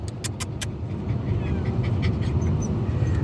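An excited dog in a car gives a few sharp high whimpers at the start, then pants and whines under the rumble of the moving vehicle.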